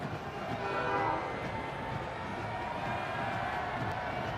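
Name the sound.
train passing by tracks outside stadium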